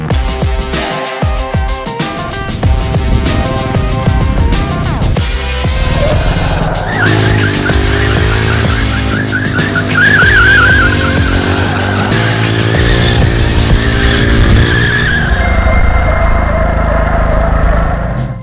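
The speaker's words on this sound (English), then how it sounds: "let's warm up the tires with some rolling burnouts" A car performs rolling burnouts while setting up to drift, its tires skidding and screeching loudly and continuously over a droning engine, with a high wavering squeal rising midway.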